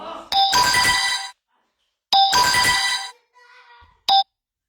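A telephone ringtone plays loud and close in two long electronic bursts with a pause between, followed by a faint trailing sound and a brief final chirp.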